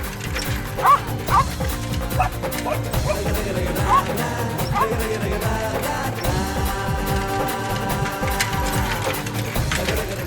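A dog barks repeatedly in a Hindi TV drama scene, with sharp barks set against dramatic background music and sound effects that last the whole time.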